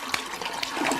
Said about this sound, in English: I gotta flush the toilet right now.